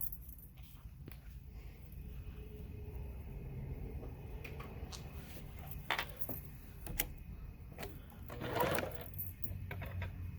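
Sewing machine stitching Amish Whirl quilt block pieces together, a steady continuous hum at moderate level with a few brief clicks and handling knocks, no talking.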